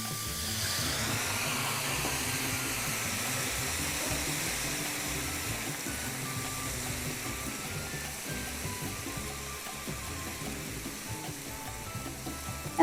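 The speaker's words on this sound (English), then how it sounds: "The pan is dry, and I'll just splash a little water in." Water splashed into a hot, dry pan of peppers and onions bursts into a loud, steady hiss and sizzle that holds for several seconds, slowly easing off.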